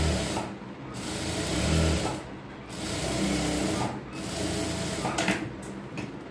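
A sewing machine runs in steady bursts, stitching a line across the top of a ladies' pant waistband strip, a close whirring rattle with short pauses between runs.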